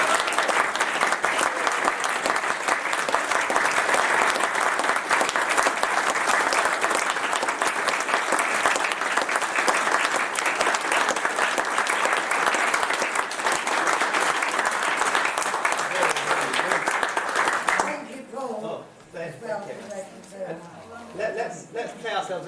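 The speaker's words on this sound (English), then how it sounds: "A big round of applause for" Sustained, loud audience applause at a Malcolm Arnold Festival concert, dense clapping filling the hall for about eighteen seconds before cutting off abruptly to quieter room sound.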